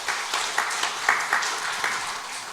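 A church congregation claps during a Sunday morning worship service, a dense, steady patter of many hands at moderate distance, with a few sharper individual claps standing out.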